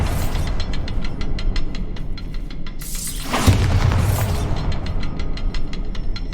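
A Bombarda blasting spell goes off in the Hogwarts Legacy video game, a loud boom bursting out mid-clip over a steady rhythmic mechanical ticking that runs throughout.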